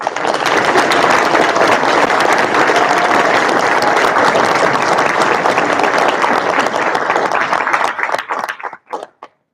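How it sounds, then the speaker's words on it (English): An audience at a public school board meeting gives a sustained round of applause, loud and dense for about eight seconds, then trailing off into a few last scattered claps. "Let's give these two a round of applause."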